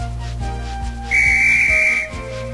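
An engine's whistle in a Thomas and Friends video game gives one loud, clear, sustained blast of about a second over a low steady background.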